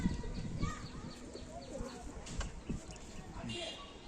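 A pair of Teddy pigeons gives low, soft cooing calls close by, intermittent throaty bursts mixed with faint shuffling and nearby voices.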